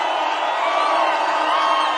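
A crowd at a county political rally cheers and claps for a local MCA, a dense, steady roar of voices and whoops that stays loud and close throughout.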